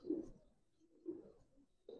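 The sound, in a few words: young pigeons cooing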